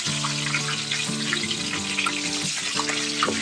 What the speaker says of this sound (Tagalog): umpisa na natin yung pagluluto ng ating lechon kawali